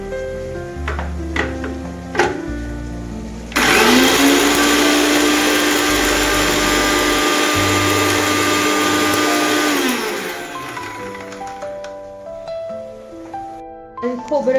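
Whole spices whir in a mixer grinder, a loud steady electric drone running about six seconds and then winding down, with someone talking before and after it.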